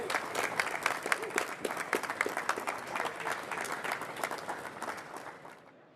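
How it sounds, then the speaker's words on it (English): Audience applause at a stone industry awards ceremony, crisp, dense clapping from a room full of people that swells early, holds, then tapers and fades out toward the end. "please give a round of applause to Stevie Murphy."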